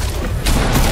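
In a Fortnite match, an RPG rocket blasts in a loud, short, booming explosion that swells and rumbles through under a second.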